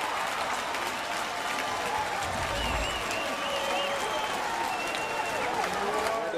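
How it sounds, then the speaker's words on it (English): Baltimore Orioles baseball crowd rising in a standing ovation at the ballpark, a sustained wash of clapping and cheering that holds steady throughout, with a few whistles rising over the crowd roar. "Of a standing ovation from the Oriole crowd, too."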